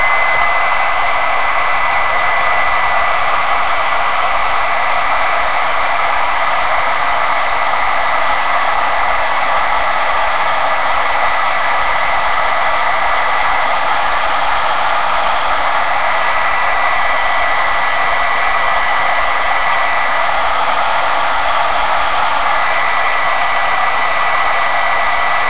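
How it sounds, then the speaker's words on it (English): A heat gun blows hot air over paint in a faux metal craft finish, giving a loud, constant rushing whoosh that holds unchanged for the whole stretch. "I'm just going to hit it with the heat gun really quick here."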